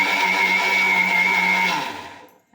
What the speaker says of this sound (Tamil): மிக்சி ஜாரில் போட்டு கூட இந்த ஏலக்காவும் வெல்லத்தையும் நம்ம சேர்த்து அரைக்கிறோம்.